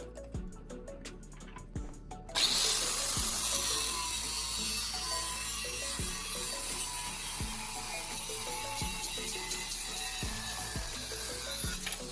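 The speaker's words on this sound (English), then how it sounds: "I grab another section of flat bar, measure out, and cut another small square piece." A small square piece is cut from steel flat bar, a steady close grinding, sawing rasp that starts abruptly and runs continuously, with repeated rhythmic knocks underneath and no voices.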